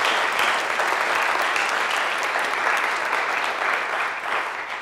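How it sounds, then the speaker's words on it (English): An audience applauds musicians at a live jazz performance, dense steady clapping that fills the space loudly and evenly, tapering slightly at the end. "Let's have a round of applause for them"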